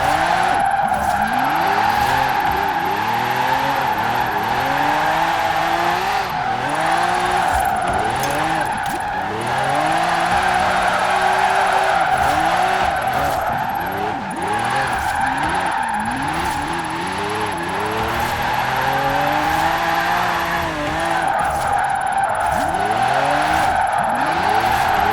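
A 2012 Bowler EXR S AWD with a 1500 HP drift build slides through corners in Forza Horizon 4, its engine roaring and revving continuously while the tires squeal and skid in long, loud, repeated waves, with no talking.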